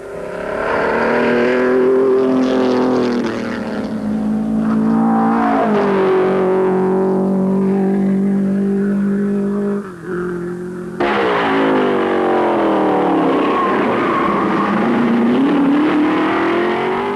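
A Gordini Simca racing car with a Fiat 1100 engine at the Rio de Janeiro Grand Prix in Brazil roars loudly, its engine note rising and falling through gear changes and acceleration, with a distorted, vintage quality.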